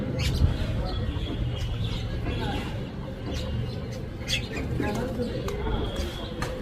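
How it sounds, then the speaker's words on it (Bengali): A white-breasted waterhen calls from a nest, with repeated short cooing and chirping notes over steady outdoor background noise, moderately close. "ডাহুক পাখি ডাকছে"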